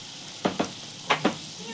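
Palm fruit fritters (taler bora) frying in oil in a wok: a steady close-up sizzle with four sharp spitting bursts in two quick pairs.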